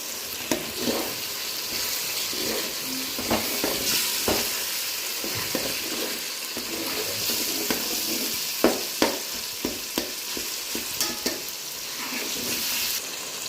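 Tomatoes with ginger garlic paste fry and sizzle in a pan, with a continuous crackle broken by repeated scraping and clinking strokes of a stirring spoon.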